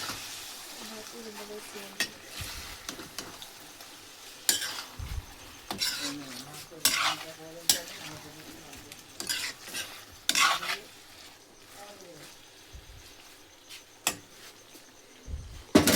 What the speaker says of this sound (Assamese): তাৰপিছত এতিয়া আদা, নহৰু, জলকীয়া পেষ্টটো ঢালি দিওঁ। আৰু অকণমান চলাই দিওঁ।